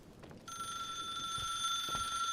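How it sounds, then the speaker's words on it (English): In the video game The Suicide of Rachel Foster, a telephone rings with a sustained, steady electronic tone that starts abruptly and continues at moderate loudness, with faint footsteps beneath it. "I can totally hear that phone ringing"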